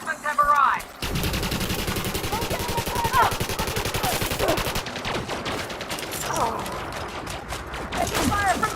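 Rapid automatic gunfire in Elite Dangerous: Odyssey, sustained bursts of close, loud machine-gun shots with brief pauses, plus short radio-style voice calls.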